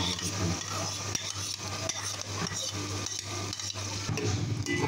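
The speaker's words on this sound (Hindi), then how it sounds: "अब हम दही शामिल करने लगे हैं।" Yogurt is stirred into sizzling chicken korma in a pot, a spoon scraping and clinking in uneven strokes over a continuous close frying hiss, with no talk.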